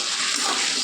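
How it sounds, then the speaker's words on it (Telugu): A large brinjal, about 150 grams, is dropped into water in a kitchen, giving a steady rushing, splashing wash of water that runs evenly and fairly loud throughout the short moment, with no voices. "నీటిలో వేసుకున్నానండి వంకాయ"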